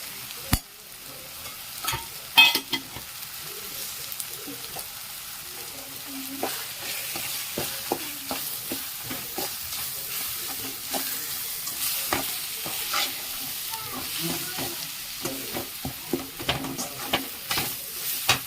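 Chili sizzles in oil for squid thokku, stirred steadily with a spoon that scrapes and taps against the pan over a continuous close frying crackle.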